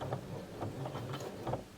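A domestic sewing machine stitches a knot in fabric, giving a quick run of close, regular mechanical ticks and whirs over a low motor hum, moderately loud and with no voices.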